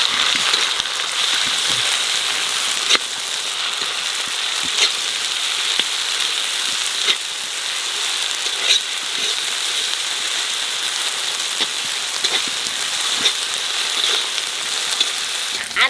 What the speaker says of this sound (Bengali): পেঁয়াজটা একটু লাল লাল করে ভেজে নিয়েছি, এখানে দিয়ে দেবো আদা রসুন বাটা।